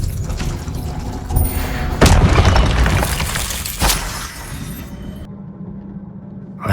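Blasting spell explosions in Hogwarts Legacy, with sharp booming and shattering impacts at intervals, the loudest about two seconds in, followed by crackling debris and a quieter mechanical tail, loud and close.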